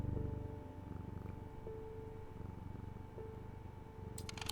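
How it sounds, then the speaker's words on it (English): A video game cat purrs in a steady low rumble, faint and continuous, with thin tonal game sounds and a short rustle near the end. "Kitty. Meow meow."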